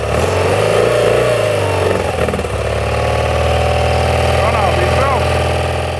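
A 1979 motorcycle engine that fired on the first kick settles into a loud, close, steady idle with a throbbing low beat and a few slight revs, while someone talks over it.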